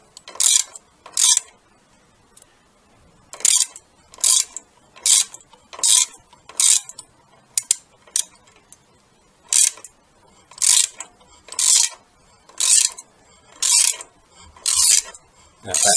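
Bursts of ratchet clicking as bolts are tightened into pre-drilled, paint-lined holes while fitting a Screaming Eagle Extreme Flow air filter on a Harley-Davidson Sport Glide, the short close ratcheting runs repeating with brief pauses and no talk.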